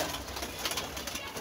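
Pigeons coo softly under a steady broadband hiss, their low murmuring calls blending into the background noise with faint irregular pulses throughout.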